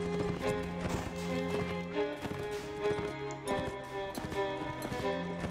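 Horses galloping in the video game Mount & Blade, with a steady run of clip-clop hoofbeats over a busy game soundtrack, moderately loud and continuous throughout.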